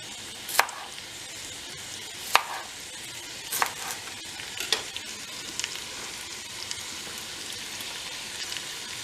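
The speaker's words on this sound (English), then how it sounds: "And just a little cut of the shallot." A knife chops a shallot for beef bourguignon, landing a few sparse, sharp cuts a second or more apart over a steady background hiss.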